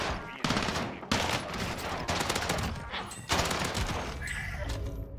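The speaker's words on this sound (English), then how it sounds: "How did my gun just start shooting right there?" Gunfire in a battle royale shooter, several loud bursts of rapid automatic fire separated by short pauses, close and punchy, with brief speech mixed in.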